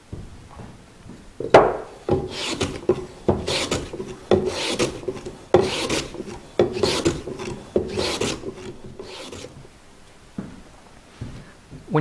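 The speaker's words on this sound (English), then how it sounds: "maybe you'll want to use the block of wood and sandpaper" Sandpaper on a wood block rasps along the center seam of a Spanish guitar's wooden back, in rhythmic back-and-forth strokes that are close and fairly loud, with no talking.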